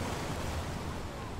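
Open sea surrounds an escape room in the Escape Simulator video game, with a steady, soft wash of waves and wind forming a continuous broadband hiss and no distinct breaks.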